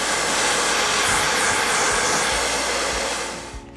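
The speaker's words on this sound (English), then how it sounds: "If you're going to blow dry, just remember to blow dry with the nozzle going down your hair" A hair dryer blows steadily and loudly while drying hair, its continuous airy roar holding for several seconds before easing slightly and cutting off at the end.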